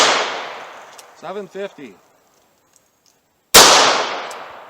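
A .32 caliber pistol fires 98-grain MagTech jacketed hollow point rounds over a chronograph about five yards from the target: two loud, sharp shots with decaying echoes, and a brief spoken number between them.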